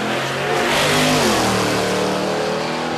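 A Barra-powered Holden Commodore drag car launches down a no-prep strip at Warwick Dragway, its engine roaring loud and close with rising revs as it pulls away, filling the whole three seconds.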